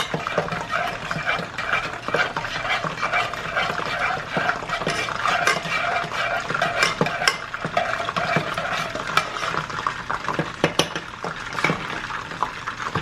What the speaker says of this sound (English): you're just going to give it a stir